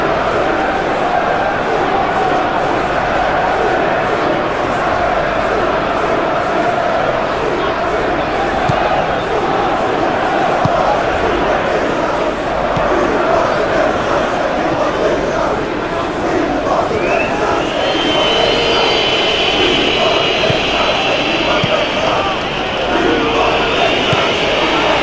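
A stadium crowd in the PES 21 football video game, during a Manchester United vs Brighton match, keeps up a loud, steady roar and murmur throughout, with a brief rise in cheering partway through.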